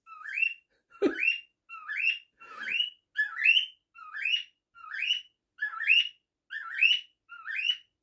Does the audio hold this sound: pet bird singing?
yes